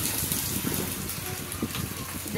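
Cooked vegetables poured out of a pressure cooker, a brief close gush and slosh of liquid and soft pieces tumbling out, with a voice talking underneath.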